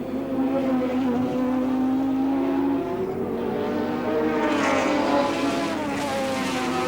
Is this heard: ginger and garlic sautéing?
no